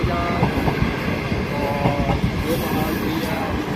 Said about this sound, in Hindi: 28 डाउन शालीमार एक्सप्रेस का डिपार्चर साहिवाल रेलवे स्टेशन से